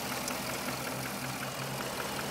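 A 2012 Chrysler 300 SRT8 with a 6.4-liter Hemi V8 sits idling, giving a low, constant drone with faint pulsing, fairly soft and uninterrupted by speech.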